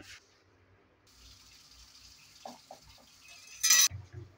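Hot water pours and splashes to soak cow tripe, starting as a steady hissing stream and then giving way to a few soft knocks and a short loud gush near the end, with no one talking.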